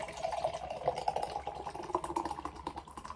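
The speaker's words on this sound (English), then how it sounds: "So Nitro beers should just be an aggressive pour, although it didn't make much of a noise for a Nitro" Nitro Caribbean chocolate cake stout beer poured aggressively from a can into a glass, giving a soft, steady gurgling splash with faint bubbling and no talk.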